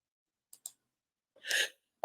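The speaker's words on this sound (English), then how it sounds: "I have a sneeze coming." Two quick sharp breaths followed by a single forceful sneeze, close and clear in an otherwise quiet room.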